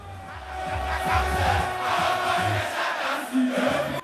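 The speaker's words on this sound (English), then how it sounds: "The crowd thronged the Manchagbona Park in Jamestown, expecting the icon to entertain them all night." A large concert crowd fills an outdoor park in Jamestown awaiting the headline act, a continuous roar of massed voices and shouts at steady loudness, with a brief louder surge near the end.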